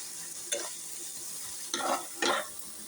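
Cauliflower is stirred in a hot pan, giving a soft steady sizzle with three brief scraping bursts close by and no voices.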